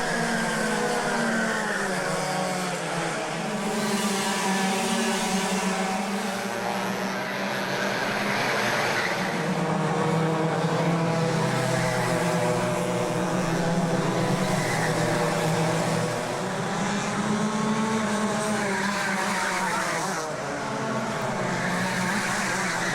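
Club100 sprint karts race around the Rye House track, their engines whining in steady, rising and falling tones as the pack holds a continuous, moderately loud drone.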